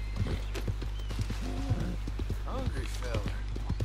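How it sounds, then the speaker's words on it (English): Horse hooves clip-clop at a steady, near pace in Red Dead Redemption 2 as an Appaloosa with a leopard blanket coat is ridden, the beats running under a continuous low game hum and scattered voice-like sounds. "Give this little horse a ride."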